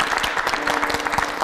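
Audience applause at a Kyrgyz television show, a steady wash of dense clapping with a few sharper claps rising out of it, moderately loud and continuous throughout, without talk over it.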